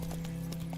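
Horse hooves clip-clopping in the video game The Witcher 3, a quick run of hoofbeats under a steady low game hum.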